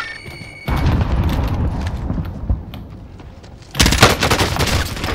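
Explosions and gunfire from the video game Call of Duty: Warzone: a loud blast opens into rumbling, then a second burst of sharp rapid shots and booms, close and heavy, with no talk.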